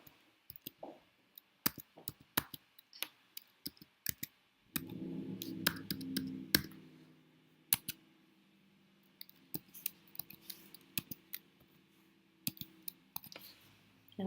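Computer keyboard keys tapped while entering a PIN on a property tax appeal site, sparse sharp clicks in irregular bursts, quiet and close, with a brief low hum partway through.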